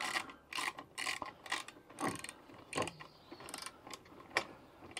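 A ratchet wrench with a socket tightens a bolt while fitting AL-KO Bigfoot support plates on a vehicle, giving close, bursty runs of metallic clicking with short pauses between strokes.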